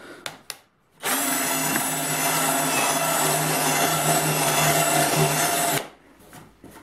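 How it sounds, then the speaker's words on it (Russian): A cordless screwdriver with a bit countersinks a hole, a few clicks first, then a loud, steady motor whir with grinding lasting nearly five seconds before it stops. "Берем наш шуруповерт, биту."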